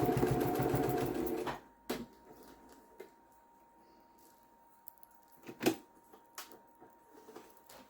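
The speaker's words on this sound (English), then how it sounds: "I'm going backwards and forwards, just reinforcing my stitches." Sewing machine running a burst of stitches back and forth on a scrap fabric headband, a loud close whir for about a second and a half, then quiet handling clicks and knocks.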